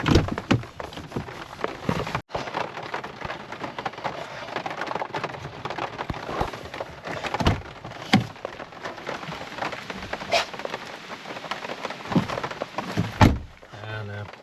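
Steady rain falls across a forest, a dense patter with scattered sharper drops throughout; no clear thunder stands out.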